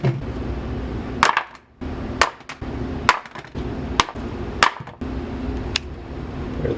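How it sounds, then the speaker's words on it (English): A Fluke 87V multimeter dropped about one meter onto a piece of hardwood, giving a series of sharp, loud impact clacks at irregular intervals over a steady background hum. "I'll be dropping this 87V onto a piece of hardwood, and this will be from about 1 meter up"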